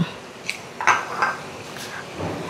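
A utensil stirring frog adobo in a pan, with scattered metallic clinks and scrapes against the cookware, close and fairly loud, a few distinct knocks spaced across a couple of seconds.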